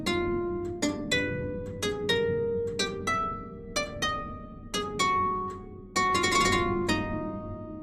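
Keyboard, likely harpsichord, plays the angular, chromatic opening subject of the jig from Bach's Partita No. 6, a steady run of crisp plucked notes with quick decays, close and alone.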